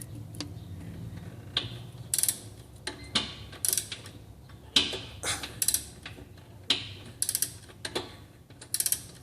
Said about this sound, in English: rotate your ratchet counterclockwise